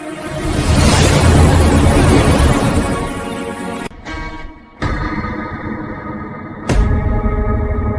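A fighter jet fires a missile, with a loud, roaring, distorted blast that fills the first few seconds and then breaks into abrupt cuts and heavy processed rumble, like a dramatized air-combat sequence.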